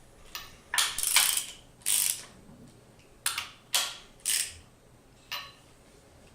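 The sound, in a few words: ratchet with 17mm socket tightening pump cover bolts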